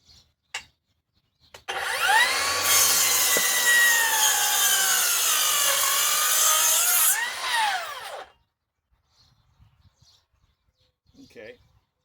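A Harbor Freight Hercules rear-handle circular saw cuts through wood in one loud, sustained whine of about six seconds. The blade's pitch shifts as it bites, with brief sounds before and after.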